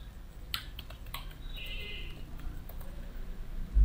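Quick typing on a computer keyboard: a few scattered soft key clicks close by over a faint background hum, no talk over them.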